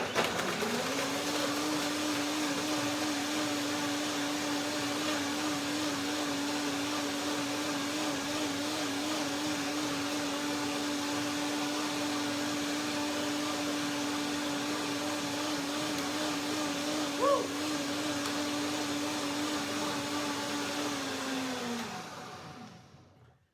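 A blender blending nuts, bananas, water and lemon runs at high speed for over twenty seconds, a loud steady whirring drone that holds its pitch, then winds down and stops.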